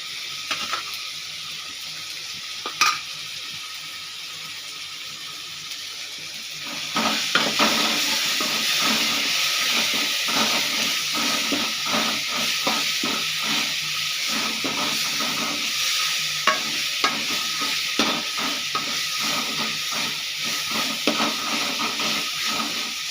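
Ginger garlic paste frying with softened tomatoes for chicken curry, a quiet hiss that swells into a louder, steady sizzle with rapid spoon scrapes and clicks throughout.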